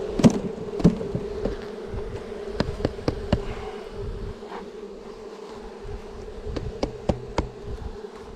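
Honey bees humming at an open hive during a colony inspection, a steady close buzz that runs throughout, with sharp knocks and clicks of frames being handled scattered over it.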